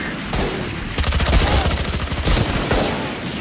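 Spectre submachine gun fire in a video game, a rapid burst of loud, close automatic shots that clatter for about a second and a half before trailing off.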